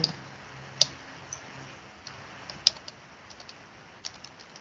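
Sparse keystrokes on a computer keyboard while a report document is being formatted, a few soft clicks and two sharper taps over quiet room hiss.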